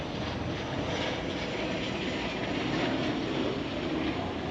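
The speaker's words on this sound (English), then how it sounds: "Qantas aeroplane. See if it'll show up on camera." Low-flying Qantas aeroplane passing over a street walk in Cairns, Australia, a steady broad roar of jet engine noise that fills the whole stretch without fading.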